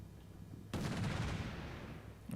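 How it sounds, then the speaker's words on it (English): Sustained gunfire and chain-gun bursts pour into a building in the wargame Combat Mission: Shock Force 2, erupting abruptly after a quiet moment and rumbling on loud and dense with no talk. "We've got a lot of fire going into it, some chain guns"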